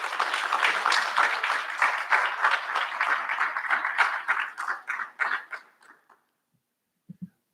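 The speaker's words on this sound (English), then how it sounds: "give yourselves a round of applause" Applause from a graduation ceremony audience, a dense and steady clapping crowd that slowly thins and then stops, followed by a short pause and one brief low sound.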